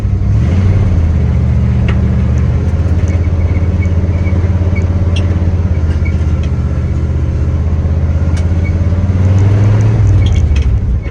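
A car engine runs steadily at close range, a low mid-range hum that rises slightly near the end as it drives a short loop around a driveway, with no talking.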